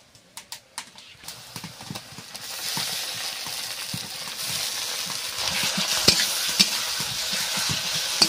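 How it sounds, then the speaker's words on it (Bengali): Ginger-garlic paste hitting hot oil with fried onions in a pan, a steady sizzle building after a few sharp stirring scrapes and taps, continuing loud and close with occasional clinks of the spoon. "এবার আদা রসুন বাটাটা দিয়ে দিচ্ছি।"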